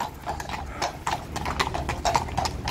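Horse hooves clip-clop on a hard road in a steady walking rhythm, close and distinct, with faint background noise and no talk.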